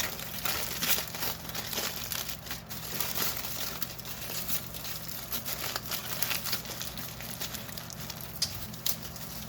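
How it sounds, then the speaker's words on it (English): Tin foil is wrapped and crumpled around a pull-apart garlic bread filled with garlic and butter. The crinkling is close and continuous, made of dense papery crackles and rustles without pause. "you can wrap this up in your tin foil"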